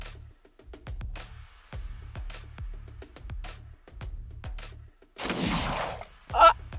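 An AR-15 rifle fires during a trick shot attempt: a series of light, regular clicks and taps, then a noisy rush and a single sharp report near the end, fairly quiet overall.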